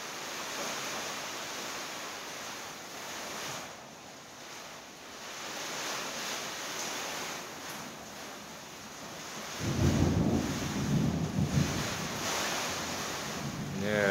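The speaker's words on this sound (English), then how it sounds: "I don't mind the thunder, though." A thunderstorm heard from inside a garage: steady heavy rain and wind, with a deep, loud rumble of thunder rolling in for a few seconds partway through.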